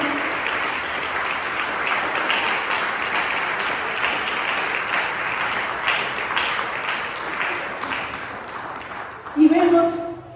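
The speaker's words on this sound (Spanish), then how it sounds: "Den un aplauso al Señor en esta noche." A church congregation applauds steadily for about nine seconds, a dense wash of many hands clapping at close range, before a voice speaks briefly at the end.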